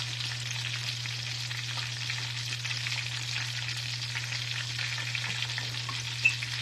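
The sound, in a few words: Philadelphia cheese melting in pan, stirred with wooden spoon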